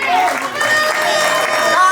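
Wedding audience applauding the bride, a steady wash of clapping with some cheering and voices mixed in throughout.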